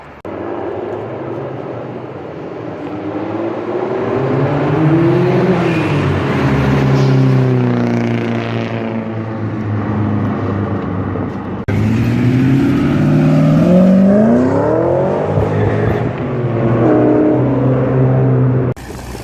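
A front-wheel-drive Mitsubishi Eclipse leaving a street car meet revs loudly nearby, its engine climbing and falling in repeated sweeping pulls as it passes, with a sharp cut midway.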